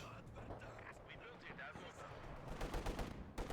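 Machine gun fire from light machine guns in the Company of Heroes 2 strategy game, quiet bursts of rapid shots under battle ambience that grow denser and louder toward the end.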